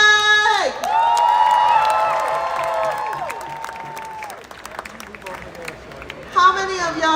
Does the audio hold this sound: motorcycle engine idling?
no